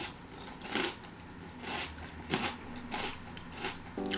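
Crunchy Cinnamon Toast Crunch cereal is chewed close to the mic in several crisp bursts of about a second each, with quiet pauses between bites and no talking.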